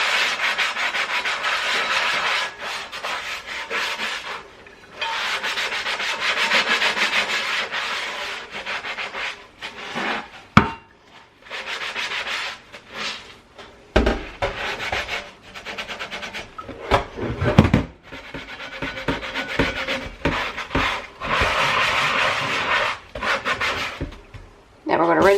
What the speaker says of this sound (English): give the entire thing a good scrub down